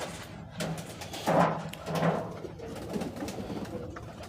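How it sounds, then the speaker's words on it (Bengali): Two soft, low pigeon coos close by, a short pause between them, over a quiet background. "এখানে তিনটা কবুতর আছে"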